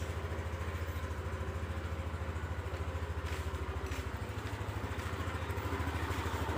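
A Yamaha NMAX scooter engine idles steadily right after starting, a close, even low putter with a faint mechanical clatter running throughout.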